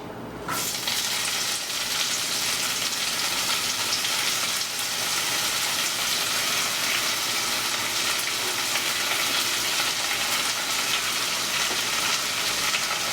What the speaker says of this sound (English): So to my olive oil in this pan, I'm going to go ahead and I'm going to add the spinach.